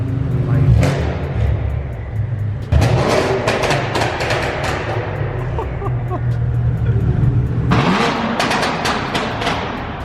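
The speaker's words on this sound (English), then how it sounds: "Why is your car so loud, dude?" A loud BMW M3 engine revs hard and roars up close at a car meet, surging twice, with people talking over the noise.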